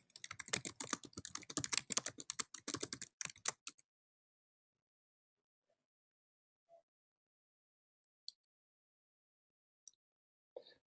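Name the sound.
typing on a computer keyboard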